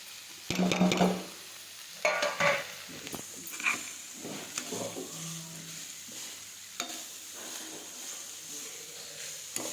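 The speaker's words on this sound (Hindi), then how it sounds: "इसमें मेवे को डालकर हल्का सा फ्राई करते हैं।" Dry fruits (mewa) being lightly fried in a pan for Holi gujiya with chashni and mawa give off a low sizzle, punctuated by several clattering stirs and scrapes of a spoon against the pan, close by and fairly quiet.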